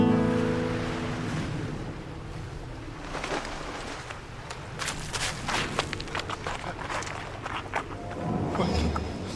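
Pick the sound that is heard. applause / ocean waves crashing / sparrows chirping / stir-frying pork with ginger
ocean waves crashing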